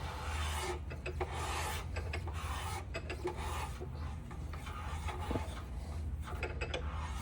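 Counterbore cutter turned by hand to cut a piston liner seat, giving repeated dry metallic rasping strokes in an irregular rhythm, close and fairly loud with no talk.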